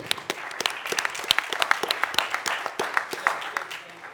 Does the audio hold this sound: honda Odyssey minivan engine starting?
no